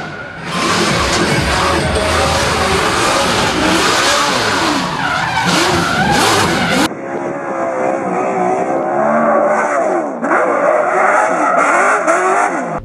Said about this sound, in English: Sam Hubinette dragging the brake there.